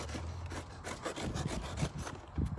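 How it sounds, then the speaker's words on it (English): Knife sawing through a cardboard shipping box, a quiet scratchy rasping with uneven back-and-forth strokes heard close up, and no talking. "And so let's get it open. And here's my knife right here."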